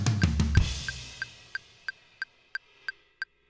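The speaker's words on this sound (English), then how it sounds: "The second one with the tom sounds like this." Drum fill on a kit including a tom for a worship song: a busy opening of drum and cymbal hits, then a steady series of evenly spaced, sharp ticking clicks like sticks counting time, close and alone.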